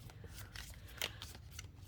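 Tarot cards being shuffled by hand, a close papery riffle of repeated soft flicks and slides running steadily over a quiet room hum.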